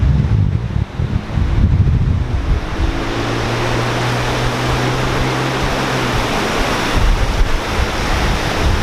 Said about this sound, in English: Love the sound of that water too.